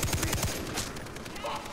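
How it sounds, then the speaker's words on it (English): A light machine gun fires in Far Cry 3, a rapid burst of close, loud shots in the first half second, then fading gunfire echoes. "There's just no point in going for headshots with a machine gun like this"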